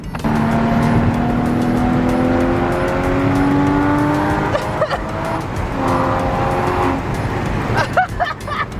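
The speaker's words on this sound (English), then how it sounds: "you have a 911 engine, but for the first time, it's right behind your head" A Porsche 911 engine, mounted just behind the occupants' heads, revs and accelerates up through the gears, loud and close, with shift breaks between rising pulls and a steady rumble throughout.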